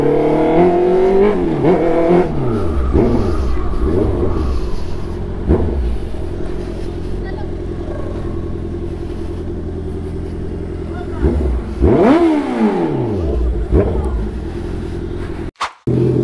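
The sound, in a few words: Honda CB650R motorcycle riding in traffic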